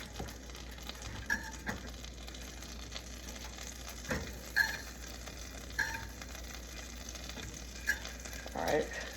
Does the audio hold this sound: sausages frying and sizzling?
yes